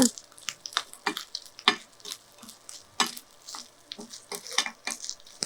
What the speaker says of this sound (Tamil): இதையும் ஓரளவு கொஞ்சம் நல்லா செவக்கிற மாதிரி வறுத்துருங்க